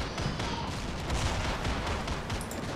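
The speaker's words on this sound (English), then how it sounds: "those Anzac mortars are really not doing much at all" Anzac mortar fire in a Valkyrie mod tournament match: a dense, continuous roar of distant explosions and battle noise. No clear separate blasts stand out.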